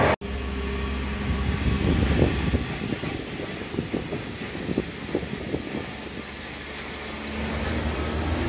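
A tram rolls along its track with a low rumble and rattling wheel clatter, faint squeals over steady mechanical hum, ending with a quieter drone.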